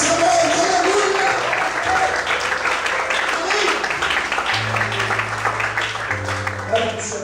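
Church congregation applauding during an evening worship service, a dense, steady wash of clapping with organ or keyboard chords sustained underneath and voices mixed in.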